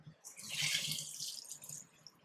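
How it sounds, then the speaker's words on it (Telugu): Water poured into a pot of lentil soup (pappucharu) with tomatoes while cooking: a short, steady splashing pour, fairly close, with no talk over it. "వాటర్ ఎంత కావాలంటే అంత పోసుకోవచ్చు."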